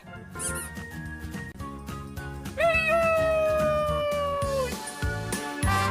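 A cartoonish cat meow rises over bouncy children's alphabet music, a long sustained wavering cry that slowly drops in pitch before fading back into the tune.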